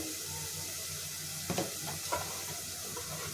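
Curry leaves and turmeric sizzle in a hot pan, a steady low frying hiss with a couple of brief stirring scrapes partway through, close and fairly quiet, with no talking.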